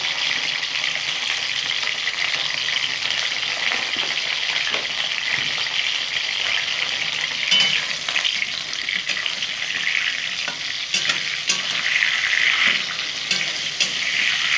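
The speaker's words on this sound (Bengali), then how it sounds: "এরপরে লাল লাল করে ভেজে নেব।" Eggplant pieces fry in hot oil in a pan for a Bengali vegetarian brinjal dish, giving a steady, close, continuous sizzle with occasional stirring clatter and no talking.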